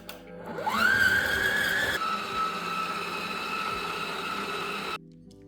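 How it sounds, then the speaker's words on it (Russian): An electric blender whips 300 g of butter until pale, its motor revving up into a steady high whine that drops to a lower, grinding drone before cutting off abruptly. "Сливочное масло 300 грамм, как я сказала, в чашу блендера. И будем 1-2 минутки где-то взбивать до побеления."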